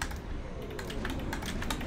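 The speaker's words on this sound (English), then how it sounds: "And I'm just clicking on my hotkeys." A computer keyboard clatters with quick, irregular key presses, close and clear, a short burst of hotkey clicks with no talking.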